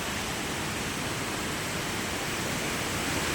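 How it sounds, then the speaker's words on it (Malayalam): Water rushes down in a forceful torrent, carrying stones and mud, as a loud, unbroken broadband roar heard close up with no voices. "വെള്ളം കുത്തി ഒഴുകാണ്."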